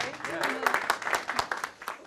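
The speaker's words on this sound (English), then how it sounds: "Give yourselves a round of applause." An audience at a hip hop and horn performance claps, a dense patter of sharp hand claps rising and falling for about two seconds while a voice talks over it.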